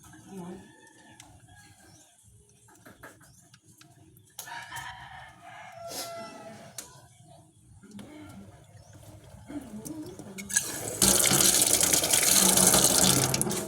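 Running water from a tap in a home, a steady broadband hiss that swells loud near the end, with roosters crowing and hens clucking nearby and people talking in the background.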